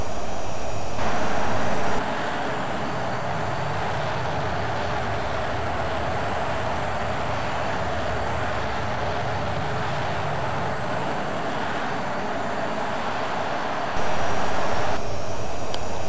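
The steady, loud jet engine roar of an EA-6B Prowler in a flight simulator game, a constant broadband drone that continues unbroken for the whole stretch with no voices over it.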